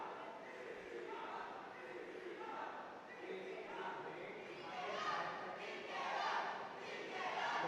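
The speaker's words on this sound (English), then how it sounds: "And we have some crowd support for Team Red." Spectators at a national Robocon robotics final cheer and shout for Team Red, a sustained, swelling crowd roar that rises toward the end, with voices mixed into the din.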